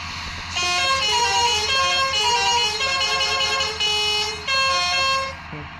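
A loud, sustained bus horn in Bus Simulator Indonesia blares in long musical tones, with a brief pause and restart, sounding synthetic like a game effect.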